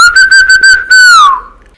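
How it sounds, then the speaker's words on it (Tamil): A man whistles a short, clear tune close by, a few quick repeated notes and then a longer held note that slides down in pitch and fades as he walks away. "விசில் அடித்துக் கொண்டு அங்கிருந்து நகர்ந்து சென்றான்"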